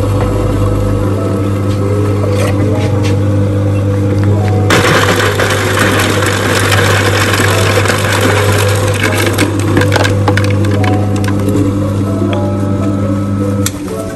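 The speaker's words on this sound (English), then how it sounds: "put it on the chocolate nut butter grinder to make the peanut butter" Chocolate nut butter grinder making peanut butter in a whole foods supermarket, a loud steady motor whine that jumps into a harsher grinding, crackling roar partway through, with faint talk in the background.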